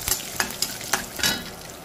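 Curry leaves and dried red chillies crackle in hot oil for a tempering, sharp spattering pops over a continuous close sizzle, several bursts in quick succession with no talking.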